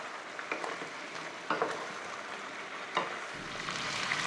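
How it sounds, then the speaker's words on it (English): Pork belly pan-fries over medium heat with a continuous soft sizzle, broken by a few light clatters as the pieces are moved. "Continue to pan fry on medium heat until the fat is rendered and the meat turns golden brown."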